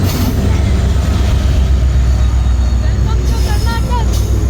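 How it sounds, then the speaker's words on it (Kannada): A train rolls past on the railway close to where people stand, a steady loud rumble of wheels and cars filling the whole stretch, with a brief squeal of wheels near the end. "ಟ್ರೈನ್ ಇರೋದು ಇಲ್ಲೇ"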